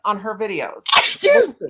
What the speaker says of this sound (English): I just like sneezed my brains out, basically.